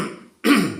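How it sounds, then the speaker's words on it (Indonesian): A single close throat clearing, a short harsh rasping burst after a brief pause, loud and alone. "Batuk-batuk dulu supaya kelihatan puasa gitu ya."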